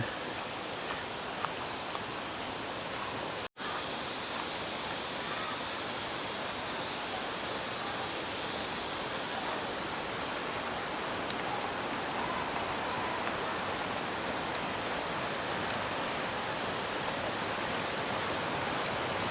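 A river near Dibulo Falls in Dinapigue, Isabela rushes in a steady, broadband hiss of flowing water, close and continuous for the full length, interrupted only by one brief dropout, with no voices heard.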